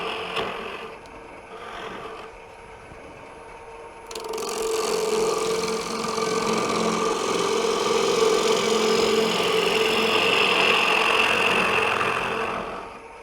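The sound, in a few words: wood lathe turning a bowl with a bowl gouge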